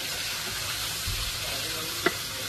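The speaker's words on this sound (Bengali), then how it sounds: "আবার একটু আমরা সটে করে দিচ্ছি।" A spicy masala paste for eggplant fish paturi sizzles softly in oil while being stirred, giving a continuous low frying hiss with a small clink near the end. Nobody talks.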